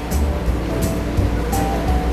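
Water poured into cornstarch to make a pineapple sauce for chicken balls, giving a steady, fairly loud watery rush that continues throughout.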